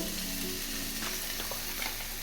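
Pointed gourd and boiled potatoes are stirred in a frying pan, giving a steady, close sizzle with soft scraping strokes throughout, and no voices.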